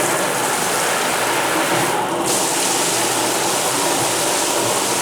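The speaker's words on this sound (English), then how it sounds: "So yeah, that is a nice shower head." A hotel shower head at a Courtyard by Marriott in Andover runs in jet mode, a steady, loud hiss of water spray that fills the whole clip with no break in the flow.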